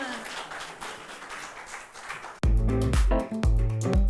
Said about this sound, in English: on applaudit très fort Michel et Tala, s'il vous plaît